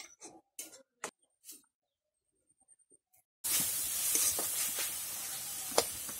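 Spice paste for a raw papaya and potato curry hits hot oil in a pan and breaks into a loud, steady sizzle after a few scattered clinks and taps, with sharp pops rising through the frying.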